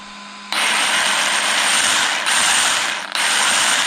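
Metal spur and pinion gears mesh and spin up suddenly after a faint hum, giving a loud steady whirring grind with two brief dips in pitch.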